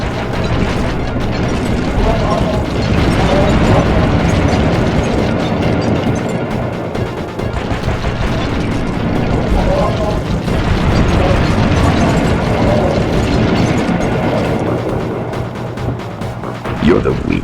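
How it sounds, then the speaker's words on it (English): Heavy booms and bursts of missile explosions during a Sly Cooper and the Thievius Raccoonus boss fight, loud and continuous for the whole stretch, layered with dense game noise and music. "My missiles don't hurt him but seem to create holes in his armor."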